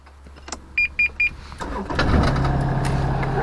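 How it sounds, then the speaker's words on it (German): An excavator engine starting: three short electronic beeps, then the starter cranks and the engine catches into a steady, loud, low idle rumble. "Ich mache einmal den Motor an."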